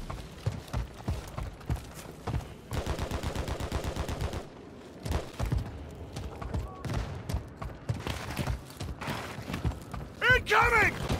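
In MW3 multiplayer, a weapon magazine is swapped with sharp mechanical clicks and clacks between rapid bursts of game gunfire. The clatter sounds close and busy, and distant in-game effects layer in around it.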